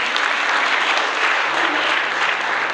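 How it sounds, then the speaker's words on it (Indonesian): Church congregation applauding during an Indonesian sermon, a dense steady wash of clapping from many hands that fills the whole short stretch at an even, fairly loud level with no talk over it. "Tepuk tangan juga boleh saudara."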